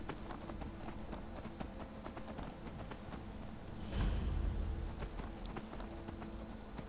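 Horse hooves clip-clop in a steady, quick rhythm as a horse gallops in the video game Skyrim, with a brief louder rumble partway through and no talking.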